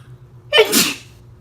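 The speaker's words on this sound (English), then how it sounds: "Try to get that out before I sneeze." A single loud sneeze, a quick sharp intake followed by a burst of breathy noise, close by with quiet surroundings.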